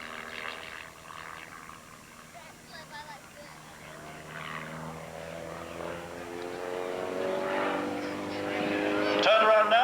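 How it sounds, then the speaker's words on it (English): An aerobatic airplane flies low and inverted over the runway at a 1988 Redding airshow, its engine drone building steadily from distant to loud as it approaches, with an announcer's voice over it. "Leo holds the airplane upside down and gives a big Bud Light 200 wave."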